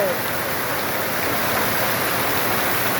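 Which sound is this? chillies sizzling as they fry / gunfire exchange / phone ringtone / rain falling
rain falling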